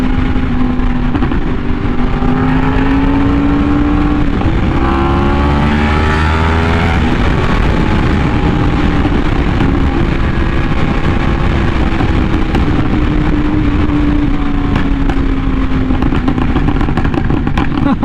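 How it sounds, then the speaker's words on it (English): Custom 2022 Yamaha R1M sport bike revving hard, its exhaust rising and falling in pitch through repeated sweeps, loud and close, with a steady aggressive engine drone throughout. "this one just has a little more anger to the exhaust note that I don't think any other bike can quite capture"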